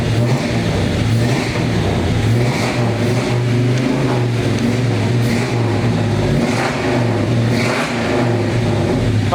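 A 1957 Chevrolet Bel Air Convertible engine runs loudly nearby, its pitch rising and falling with repeated revs over a continuous rumble.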